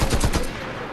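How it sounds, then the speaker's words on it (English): Automatic gunfire in the Fortnite battle royale game, a burst of rapid shots loud and close at the start, then fading into a dull rumble with no voices. "somebody's shooting at you"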